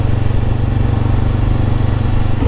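A 2021 Honda CBR500R parallel-twin engine drones steadily and loudly at close range while riding, a constant rough pulsing hum without a clear gear-change break.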